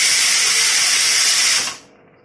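A pressure cooker whistles while biryani cooks, a loud, close, hissing steam blast held for about a second and a half before cutting off abruptly into near silence.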